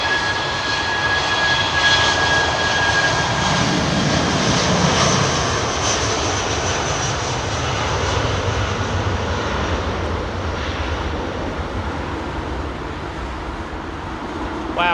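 A Thai Airways Boeing 777-300ER roars down runway 27R at London Heathrow on takeoff, a loud sustained jet rumble and whine that holds steady and slowly fades, with no talk.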